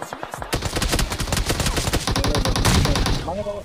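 Rapid gunfire from the mobile battle royale game BGMI (PUBG) during a shootout: a dense, loud string of quick repeated shots running almost continuously, with a voice briefly audible alongside.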